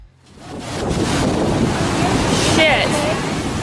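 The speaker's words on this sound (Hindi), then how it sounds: "इस बीच पर समंदर की लहरें खतरनाक हद तक तेज हो जाती हैं।" Strong ocean waves at Iceland's Black Beach, a rushing roar of surf that swells up from near silence and holds loud and close, buffeted by heavy wind noise on the microphone.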